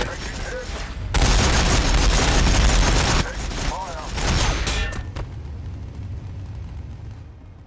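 Units in a Warhammer strategy game open fire, long stretches of loud rattling gunfire and booming blasts crowded together, swelling and dropping, then trailing off into a quieter rumble.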